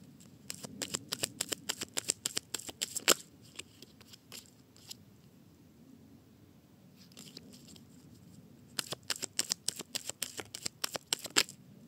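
Tarot cards are shuffled and drawn in quick, crisp bursts of close, light riffling and snapping, with a quiet pause between rounds and no voice.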